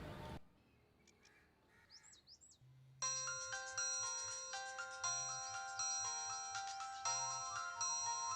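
A phone ringtone starts after a few seconds of quiet room sound and soft chirps, then plays a bright repeating electronic melody, moderately loud and close, with no talking.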